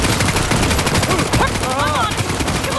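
Gunfire in the video game Cyberpunk 2077, a dense run of rapid automatic shots, loud and close, mixed with chaotic combat effects and brief voices.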